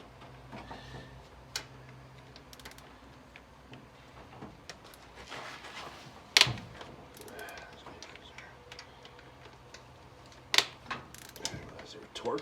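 A socket ratchet works on heavily torqued bolts on a 1973 Oldsmobile 455 engine during a valve stem seal job, giving scattered clicks and sharp metallic knocks, up close with some quiet shop noise in between.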